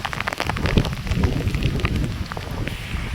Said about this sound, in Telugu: చూడండి ఎలా ఉందో వర్షం